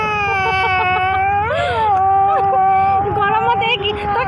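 A young child cries loudly and close by, a continuous wailing with rising and falling pitch and whimpering breaks.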